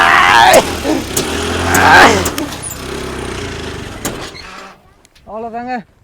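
Mini jeep off-road vehicle engine revving hard while its wheels spin, a loud sustained roar that surges and fades, with talk over it, then a brief rising mechanical whine near the end.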